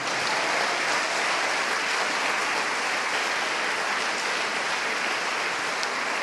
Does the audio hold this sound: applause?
yes